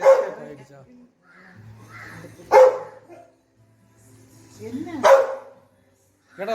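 A dog barks in a few sharp, close yaps spread across several seconds, with a person talking in between the barks.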